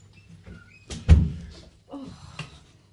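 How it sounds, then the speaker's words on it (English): A dog bangs into a door and pushes it open indoors: a heavy thump near the middle, then a softer knock and rattle a moment later, with a quiet room around it. "That's my dog just banged into the door."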